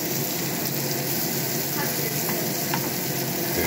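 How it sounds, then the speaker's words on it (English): Onions and peppers fry in a pan, a loud, dense, steady sizzle heard up close, with occasional scrapes and clicks of stirring and no talk. "Fried onions"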